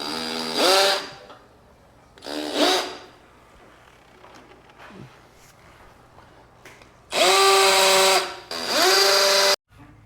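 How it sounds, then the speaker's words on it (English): A power drill drilling a pilot hole whines in four bursts, two short ones then two longer, louder runs, revving up and cutting off with quiet pauses between. "First, I'm going to drill a pilot hole."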